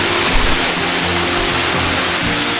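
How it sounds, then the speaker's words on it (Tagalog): Waterfall at Nagkalit-Kalit Falls in El Nido, Palawan, pouring as a steady, loud, broadband roar of falling water that holds unbroken from start to finish, with no voices. "Nandito na tayo sa Nagkalit-Kalit Falls."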